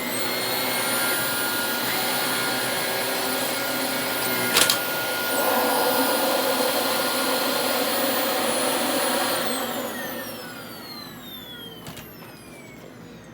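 A Dyson DC25 upright vacuum cleaner runs on a new motor with a slightly rough sound, a steady loud whine and airy roar that winds down toward the end, with a clunk midway.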